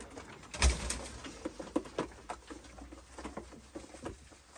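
Pigeons in a coop coo softly amid fluttering, pattering movement and scattered light knocks, a busy close-up sound of birds shuffling together.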